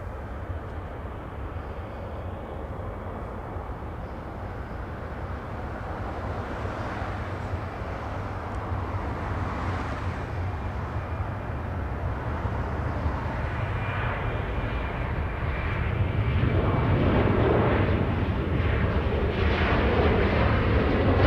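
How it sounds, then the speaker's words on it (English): A Southwest airliner taking off at Los Angeles International Airport, a broad jet engine roar that builds slowly and grows louder and rougher toward the end, heard from a distance. "Southwest 792 already cleared for takeoff"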